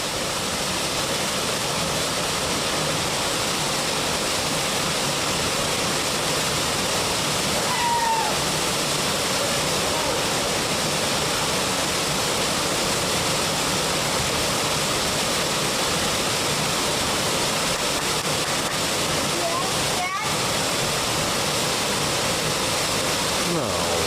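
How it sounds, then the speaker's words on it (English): Waterfall roaring loudly and steadily at close range throughout, with faint voices and brief higher-pitched calls barely rising above the rushing water. "Hey, Sarah, swim in the waterfall."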